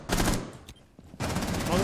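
Rapid bursts of automatic gunfire in Rainbow Six Siege rattle close and loud, broken by a short lull before another burst resumes.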